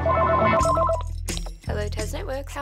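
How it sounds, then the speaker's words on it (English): An electricity network's customer line rings for an incoming call, a repeated electronic telephone bell in quick bursts, followed by a voice speaking over a low musical bed. "Let's start with a phone call."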